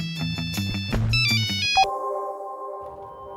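A phone ringtone plays a bright electronic melody of quick repeated notes. It settles into a sustained, steady tone, clear and fairly close, with no talk.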